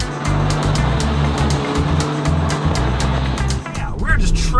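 A Kia Soul Turbo driven hard through a track corner: a loud, steady engine drone with hints of tire squeal, and a voice talking over it.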